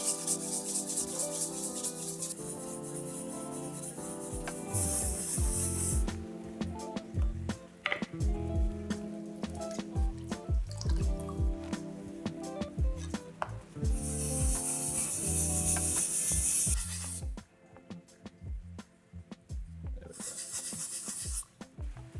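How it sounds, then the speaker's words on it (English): Wet sanding of a primed 3D print using a 220 grit sponge, a steady close rubbing and scrubbing with repeated strokes, slightly louder in a few stretches and otherwise fairly even and quiet. "we're going to start sanding the curve in here"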